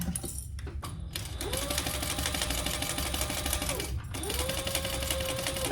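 A sewing machine stitches fabric for a waist pack in two long, fast runs separated by a short pause, its needle in need of changing, producing a close, steady rhythmic chatter with faint low hum.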